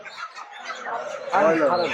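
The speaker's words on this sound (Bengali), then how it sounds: "কত মুরগি দেখুন" Chickens cluck and squawk close by at a busy chicken market in New Market, Kolkata, growing louder near the end, with faint voices in the background.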